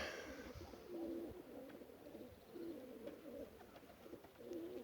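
Pigeons coo softly in repeated low murmuring phrases, a few birds close by against a quiet background.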